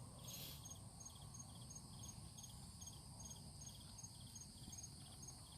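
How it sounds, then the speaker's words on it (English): Crickets chirp in a faint, steady pulsing trill outdoors, a quiet continuous rhythm with no voices over it. "Crickets, crickets."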